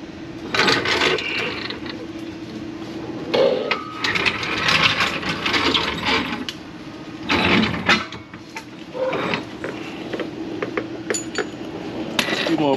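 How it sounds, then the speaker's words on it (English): Car jack being lowered under an Audi A4 during an oil pan replacement, with clanking metal, ratcheting and scraping mechanism sounds in irregular bursts, close and moderately loud. "Let the jack down."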